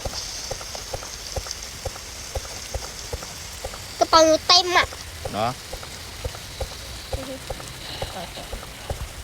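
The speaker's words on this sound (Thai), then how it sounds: "แต่ว่ามันฝนตกอยู่อ่ะ" Steady rain patters on surfaces in a Roblox forest survival game, a soft continuous hiss with light drop ticks, while a couple of voices talk briefly over it.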